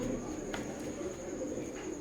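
Teddy pigeons kept for sale, soft low cooing from a bird close by, faint and continuous over the short span with no speech.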